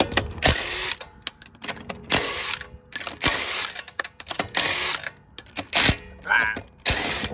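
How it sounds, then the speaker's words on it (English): A spinning wheel on a 25-year-old Toyota Celsior (Lexus LS400) with uneven brake pads or a warped rotor, making a rhythmic, pulsing scrape and hiss that swells and fades with each rotation, close and fairly loud, with brief mechanical clicks. "You hear that modulation as the wheel spins. It's like that pitch change."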